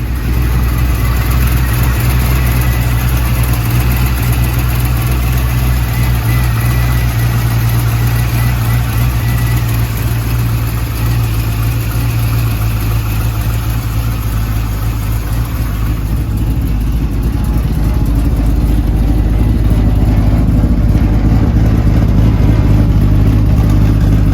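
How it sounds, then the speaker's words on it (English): A 1955 Chevrolet 3100 pickup with a swapped LS V8 rumbles steadily at idle after a warm start, loud and close, with a deep continuous drone throughout. "we're gonna crank up the engine"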